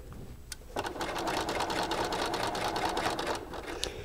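A sewing machine stitches the seam of a lined child's garment, a steady close, loud rapid needle whir after a brief start, running alone with no talking.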